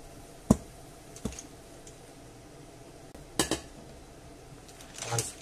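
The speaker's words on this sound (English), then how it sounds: "I'm going to mix it all in." Pasta being mixed with clams in a pan, giving sparse, sharp clinks and scrapes of utensil on metal separated by quiet gaps.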